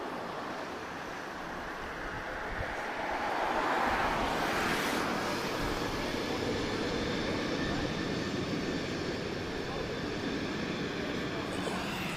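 An ATR propeller aircraft arriving at Lisbon Airport, heard as a broad, steady roar that swells in the middle and holds, carrying from a moderate distance.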